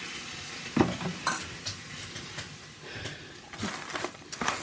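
Whole spices fry in hot oil in a pressure cooker pan, a close sizzle punctuated by repeated scraping stirs and small clatters at an uneven rhythm.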